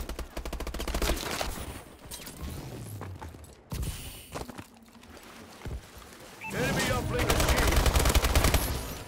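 Bursts of close-range video game gunfire rattle in rapid automatic volleys, pausing briefly before a dense, loud sustained stretch near the end.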